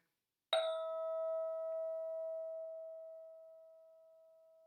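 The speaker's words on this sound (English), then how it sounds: "We're going to start with the sound of the bell." A single meditation bell strike rings out clearly, then a pure sustained tone slowly fades in an otherwise silent space.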